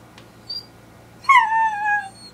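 A pet dog lets out a high, drawn-out whimper lasting close to a second, preceded by a brief faint squeak, heard alone in a quiet room.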